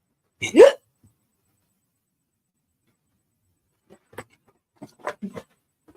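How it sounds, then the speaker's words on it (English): A single loud, sharp hiccup close by, followed after a pause by scattered quiet sounds. "I've been told by my family that my hiccup could wake the dead."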